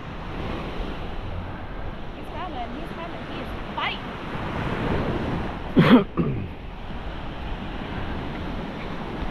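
Ocean surf on a Florida beach rolls in a steady wash under wind buffeting the microphone, with a louder gust-like burst midway and faint voices now and then.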